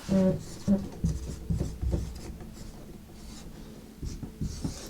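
A pen scratches across paper close to the mic, a few quick strokes at first, then a softer steady rubbing of writing that continues for several seconds, with no talk.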